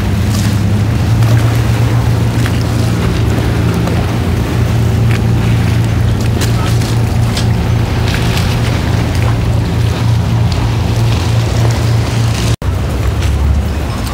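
A boat motor drones steadily and loudly on Venice's Giudecca Canal, a continuous low rumble with water and wind noise throughout, briefly cut near the end.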